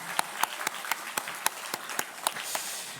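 A church congregation claps during a Sunday morning service to encourage the Hallelujah choir, a steady rhythmic beat of unison claps about four per second over a softer background of scattered hands.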